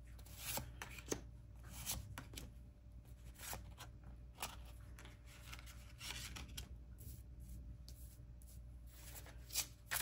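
Tarot cards shuffled by hand close up, a soft continuous riffling and rubbing of card stock with scattered crisp flicks, quiet and steady throughout with no speech.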